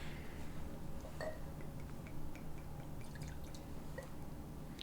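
Whiskey poured into a glass at a casual tasting, a brief liquid trickle and drip with a light clink near the start, close and fairly quiet over a steady low background hum, with no talking.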